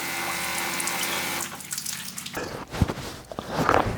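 Water from a Camplux camper kit camp shower sprays in a steady, close hiss, then breaks into uneven splashing as someone washes under it.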